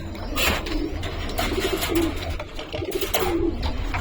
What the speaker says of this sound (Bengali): এখানে অল্প কিছু কবুতর আছে।